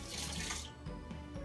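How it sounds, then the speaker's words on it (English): Tap water runs into a sink as a spoon is rinsed after dyeing eggs, a steady close splashing rush that is strongest in the first half and then continues more softly. "We're gonna rinse the spoon again."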